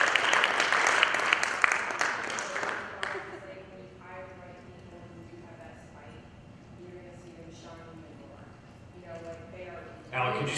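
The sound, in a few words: audience applause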